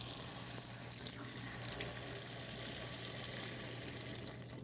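Cold water runs steadily from a kitchen tap in a continuous broadband rush, close and fairly loud, with no one talking.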